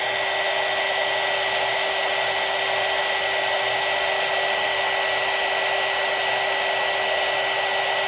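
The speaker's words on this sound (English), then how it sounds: "and my heat tool here" Heat tool melting clear embossing powder, a loud steady blowing whine like a hair dryer, constant and close throughout with no talking.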